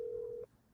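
Telephone dial tone heard while a call is being placed, a single steady electronic tone lasting under half a second before cutting off into quiet background.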